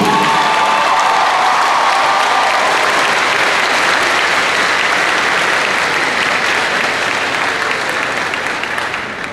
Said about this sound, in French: Votre applaudissement m'invite à le redire